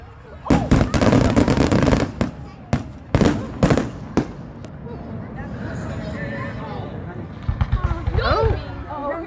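Fireworks in Selma, California burst in a rapid run of loud, sharp cracks and booms over the first five seconds, then thin out into scattered pops and crackles, with people talking and exclaiming throughout.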